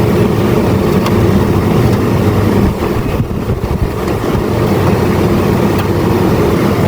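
A Gree GMV5 VRF solar air conditioner runs with a loud, steady broadband roar and low rumble, continuous throughout with a brief dip in the middle.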